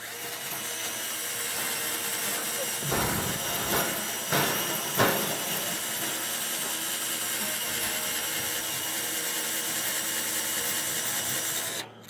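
A continuous grinding, whining drill bores into a meteorite, running steadily throughout, with a few sharper scraping bursts in the middle, close and moderately loud.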